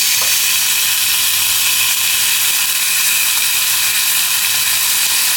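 Sliced pork sizzles steadily in a hot pan as it is added for a Japanese-style pork rice bowl, a continuous bright hiss with faint stirring, loud and close, no voices.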